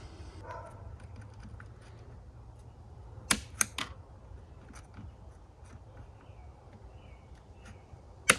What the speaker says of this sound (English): I'm just going to notch it real quick with some scissors so that this cable will fit